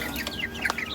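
A rooster clucks on a farm in short, faint calls with a few quick bird-like notes over quiet background noise.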